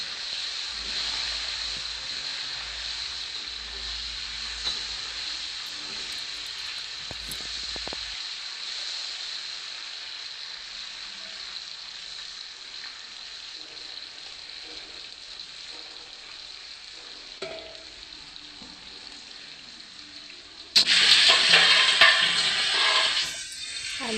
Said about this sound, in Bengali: এখন আমি নাড়িয়ে চাড়িয়ে ঢেকে রেখে ভালো করে লাল লাল করে এটাকে ভাজবো